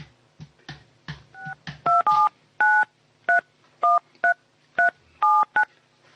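A telephone number is dialed as a string of about ten clear DTMF beeps, each short and sharply separated, after a few soft button clicks, close and alone.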